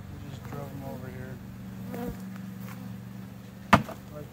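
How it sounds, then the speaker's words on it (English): Honey bees drone in a steady, close buzz while a nuc is installed into a hive in late spring, with one sharp knock near the end. "I like to hit the bees in with the lid"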